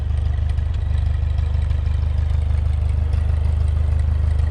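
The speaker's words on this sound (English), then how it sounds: "This is a 1940 9N Ford tractor with a factory Dearborn buzzsaw on the back of it." A 1940 Ford 9N tractor with a factory Dearborn buzzsaw mounted on the back sits idling, its engine giving a steady, close, low-pitched rumble with a light clatter throughout and no voices.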